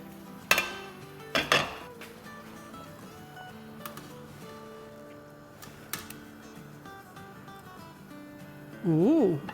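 A metal wok is set down on a stove burner at medium-high heat, making two sharp clanks early on and a few lighter knocks later, with a person talking throughout the scene.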